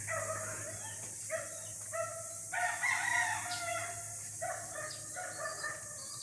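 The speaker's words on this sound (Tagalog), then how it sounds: "Ayan, may bird." Bird calls in a backyard farm: repeated bursts of crowing-like calls, fairly close and moderately loud, separated by short pauses over a steady low background hum, with no talking.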